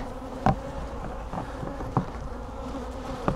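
Honey bees hum steadily around an open hive during an inspection, with a few individual bees zipping close past in brief louder buzzes.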